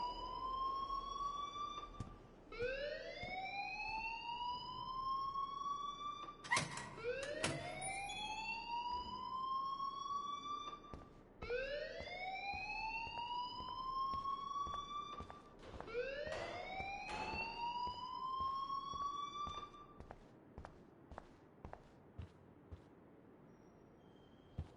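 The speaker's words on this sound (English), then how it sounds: "please turn off that alarm since that's your job" Alarm from the Life is Strange video game, blaring as a series of repeated rising electronic whoops, each sweeping upward over a couple of seconds, loud and continuous for about twenty seconds before stopping, with no voices over it.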